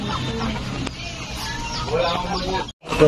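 Native chickens cluck and chatter in a busy yard at feeding time, with people talking nearby and brief rustling throughout.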